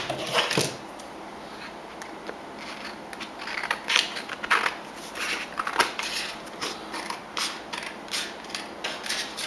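Scissors snip around the edge of a craft card in a run of quick, close, crisp cuts with a slight creaking rasp, with no voices.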